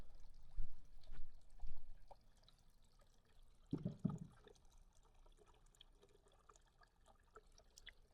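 A garden water feature beside a koi pond trickles faintly and steadily outdoors, with a couple of soft splashes and low bumps near the start and middle.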